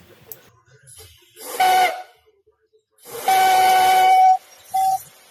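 A defective pneumatic CV joint boot installer, fed by an air hose, lets out three bursts of hissing air, each carrying a shrill train-like whistle tone; the middle burst lasts longest and the last is short.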